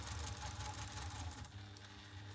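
A sewing machine stitches a small fabric crossbody bag, running in a steady, loud, rapid mechanical whir that eases slightly toward the end, with no talking.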